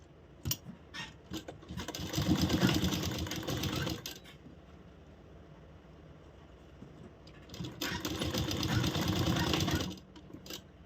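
A sewing machine stitches a coat collar for a blouse in two long bursts of fast, steady whirring, each about two to three seconds long, close and moderately loud with quiet gaps between.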